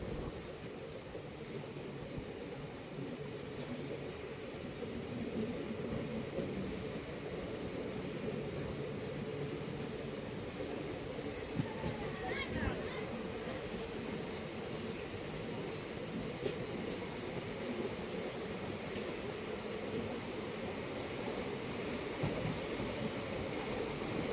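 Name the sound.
passenger train, Wodeyar Express from Mysore to Bangalore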